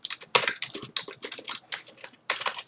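Quiet, close keystrokes on a computer keyboard tap out an irregular run of clicks while network switch configuration commands are entered, with brief pauses between bursts.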